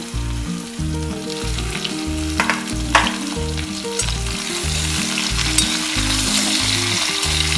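Potatoes and onions sizzle steadily in hot oil in a pan for rohu fish curry, stirred now and then with sharp scraping accents, all over a low rhythmic backing that runs throughout.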